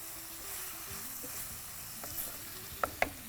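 Dry spice powders of coriander and turmeric with salt sauté in a hot pan with a soft, steady sizzle, and a couple of sharp clinks from stirring come near the end; no one speaks.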